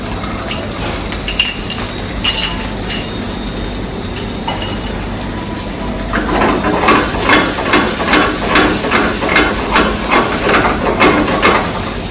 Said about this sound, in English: we're going to start with a little bit of oil. We will be adding our black beans to that.